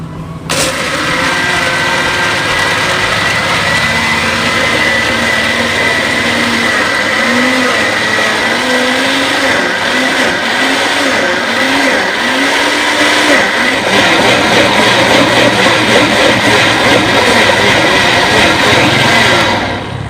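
A countertop blender whirs steadily for about twenty seconds, blending lemonade made from lemon powder, its loud motor drone rising and shifting in pitch as the mix churns, close up with no talking.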